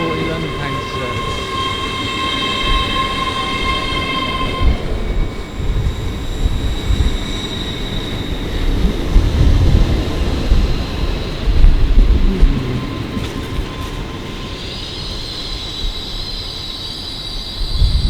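A Class 800 train passes at Swindon on the 13:40 London Paddington to Carmarthen service, a broad rumbling roar that swells and fades across the span, with faint rail squeal and brief tonal whines near the start and end.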